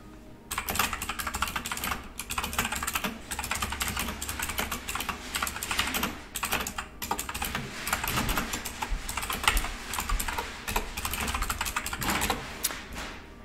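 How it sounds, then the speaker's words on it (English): Rapid, dense clatter of computer keyboard typing runs continuously with no talk, close and moderately loud, keys struck in quick irregular bursts throughout. "apparently I was actually typing in wrong"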